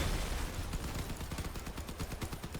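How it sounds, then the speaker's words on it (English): Machine guns firing in a video game, rapid bursts of sharp repeated shots in a steady rattling rhythm, loud and dense, with no talking. "See how far away you can shoot with these machine guns?"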